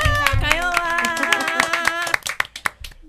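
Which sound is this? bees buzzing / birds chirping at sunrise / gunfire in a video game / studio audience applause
studio audience applause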